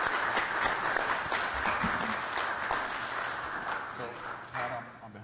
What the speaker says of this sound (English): we'd like to take a moment to offer a round of applause to you.